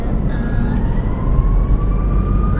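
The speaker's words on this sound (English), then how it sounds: "I don't know where the sirens are coming from" A distant siren wails with a slowly rising tone over loud, steady road rumble.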